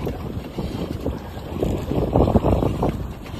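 Sailboat under way with only the genoa unfurled and the mainsail furled, near a jetty at Steveston: a close rush of wind across the microphone and water swishing along the hull in uneven surges.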